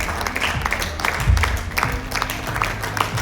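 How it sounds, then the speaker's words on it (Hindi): Audience applause greeting special guests at an event, a short burst of scattered clapping with a soft crowd murmur, moderately loud and continuous. "तालियां बजती रहें हमारे खास मेहमानों के लिए"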